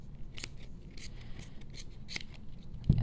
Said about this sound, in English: go ahead and just cut through all the yarn with your scissors